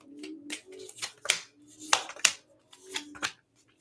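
Tarot cards being shuffled by hand: a series of quick riffling bursts and soft slaps, close and crisp, in an irregular rhythm with brief pauses between shuffles.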